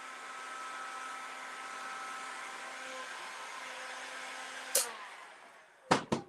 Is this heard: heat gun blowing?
yes